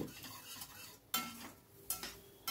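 Masala being stirred in a pan over a medium-high gas flame for an egg dish, with a soft continuous sizzle and a few sharp scraping strokes of a spoon against the pan.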